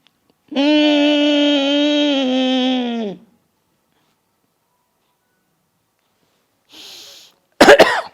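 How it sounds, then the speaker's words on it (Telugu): A person gives one long, loud, sustained harsh vocal sound, then after a silence a short softer burst and a final sharp explosive cough, all close and isolated. "ఇలా దగ్గు కూడా వస్తుంది"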